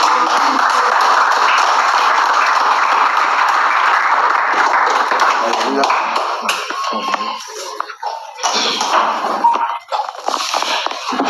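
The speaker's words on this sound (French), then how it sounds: "Applaudissons ce soir." A crowd at a church service in Yaoundé claps loudly and continuously, then the applause thins into scattered claps and fades out.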